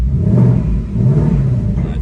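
A 2024 Ford Mustang S650 RTR with a performance pack has its engine revved in sport exhaust mode, giving a close, deep rumbling roar that swells twice.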